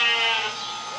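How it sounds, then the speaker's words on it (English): Babydoll sheep bleating in a barnyard, one sustained, loud, close bleat with strong harmonics that slowly eases off in volume. "It's a sheep."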